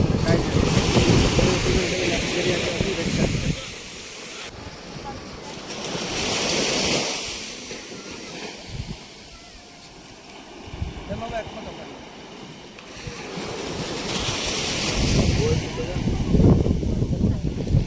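Sea waves surge and break in repeated swells, rising to loud crashing rushes and easing between them, with faint voices in the background.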